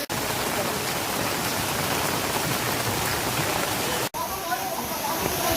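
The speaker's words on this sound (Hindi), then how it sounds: "ये इधर से आ रहा है पानी।" Heavy rainwater pours and rushes into homes in a flooded residential colony, a dense, steady roar of water with a brief cut partway through, loud and close throughout.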